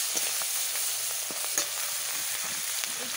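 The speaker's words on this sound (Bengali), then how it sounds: "মাছের মাথা ভাজা করে নিচ্ছি।" Steady, close sizzling of fish heads frying in hot oil, with faint scattered crackles and pops throughout.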